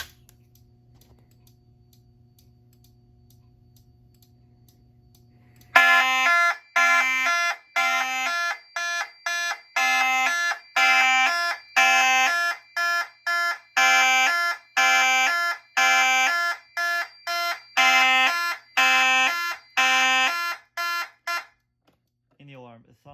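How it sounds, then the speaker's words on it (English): A Fire-Lite MS-5UD fire alarm system, set off by a smoke detector, sounds a loud pulsing electronic tone in a steady on-off pattern after a quiet start, then cuts off abruptly. "I'm going to go ahead and activate the smoke detector by just spraying some smoke."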